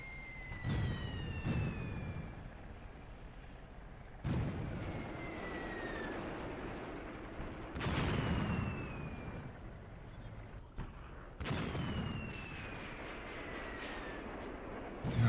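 In the Graviteam Tactics war game, mortar rounds boom again and again at spaced intervals. Each blast comes with a high descending whistle, and the sound is moderately distant.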